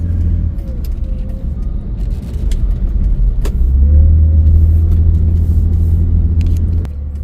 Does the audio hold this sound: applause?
no